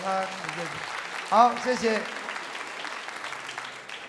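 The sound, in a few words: congregation applauding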